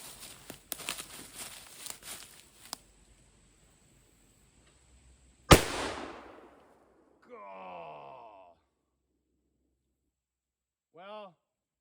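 An Uberti 1847 Walker cap and ball revolver fires one loud, sharp shot that rings out briefly, with quieter handling noises before it and a few vocal groans afterward.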